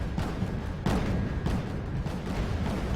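Naval cannons firing in the Wargame Red Dragon strategy game, with a NATO fleet engaging at sea: a dense, continuous rumble of distant booms, several heavier blasts standing out at roughly even intervals, with no voices.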